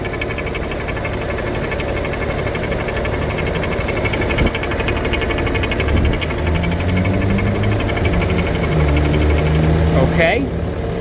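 The diesel engine of a 2010 BMW 335d idles steadily after warming up, a low, continuous rumble and faint vibration, a voice occasionally murmuring nearby.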